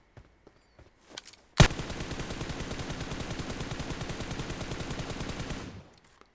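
Sustained automatic gunfire aimed at a vehicle in PUBG Mobile: one loud burst breaks a near-silence, then a long rapid rattle of shots runs steady for about four seconds before stopping, with a few faint clicks earlier on.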